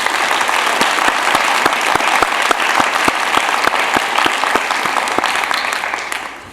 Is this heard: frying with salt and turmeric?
no